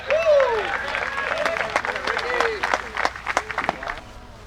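Disc golf tournament gallery at the Maple Hill Open erupting into applause and cheers after a shot, a dense burst of clapping with scattered shouts, fairly close and loud.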